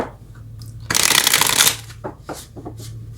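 A deck of tarot cards is riffle-shuffled up close in a single crisp burst of about a second of rapid flapping, followed by a few soft card taps and handling.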